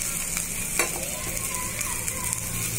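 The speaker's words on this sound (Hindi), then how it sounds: "अब इसे हम अच्छे से मिक्स कर लेंगे।" Spring roll filling of potato and coriander leaves is stirred in a sizzling pan, with soft scraping strokes over a steady frying hiss.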